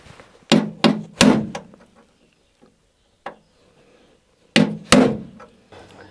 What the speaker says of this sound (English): first I'm going to make myself a little centre hole with a punch